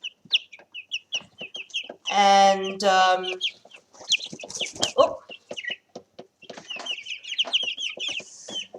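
Chickens cluck and squawk during a brief challenge fight among the flock, with a loud burst of harsh squawking in the middle, short clucks throughout, and a brief spoken word.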